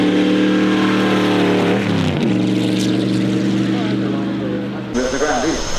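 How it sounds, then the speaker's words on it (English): A supercharged straight-eight racing car engine drones loudly at a speed festival, a sustained high-pitched howl that shifts pitch as it passes, with voices talking over it. "With a very powerful straight 8 supercharged."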